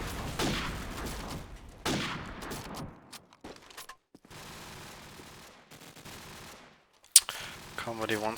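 Gunfire in a competitive shooter game during a CG Nations Cup match, bursts of rapid shots broken by short silent gaps, with a sharp crack near the end, under a commentator's voice.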